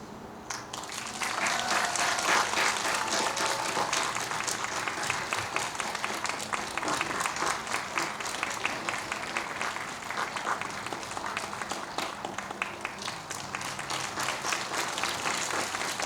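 A standing ovation at a gratitude ceremony: loud, sustained clapping from a large audience, a dense, even roar of hands that continues for the whole stretch without letting up.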